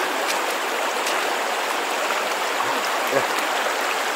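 A mountain stream flows with a steady broadband rush of water, constant and fairly close, with no voices over it.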